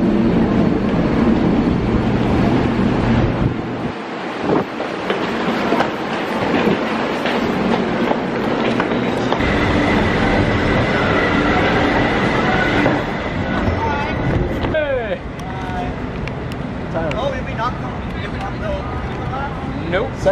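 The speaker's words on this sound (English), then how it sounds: "this train couldn't be traveling any slower" Steady rumble and rhythmic clatter of a train rolling on rails, with brief wheel squeals, while people talk over it.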